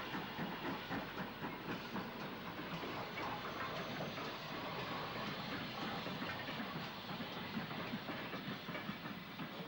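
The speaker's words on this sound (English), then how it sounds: "7029 Clun Castle is running under the Bath Road Bridge" Steam locomotive 7029 Clun Castle runs under the Bath Road Bridge at Bristol on an SLS Special, a dense steady roar of hissing steam and rolling wheels that holds close and loud throughout.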